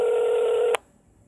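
Telephone being dialed to place a call, a single loud steady electronic tone that holds for under a second and then cuts off sharply into near silence.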